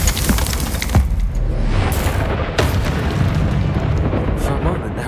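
Confringo blasting spell detonating in Hogwarts Legacy combat, a loud, dense barrage of booming blasts and crackling bursts over a constant rumbling din, with sharp impacts near the start and around two seconds.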